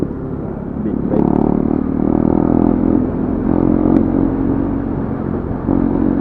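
A big motorcycle rides past, its engine rumble swelling and revving at mid distance before fading, with people talking over the street noise.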